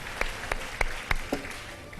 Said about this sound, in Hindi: बहुत सारी तालियां सबके लिए